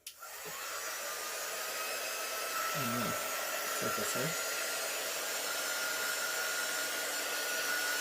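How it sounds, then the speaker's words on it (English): A handheld quick-dry heat tool blows air over a craft sheet, producing a loud, steady electric whir that starts abruptly and holds constant throughout. "Okay, so we're going to give this a quick dry."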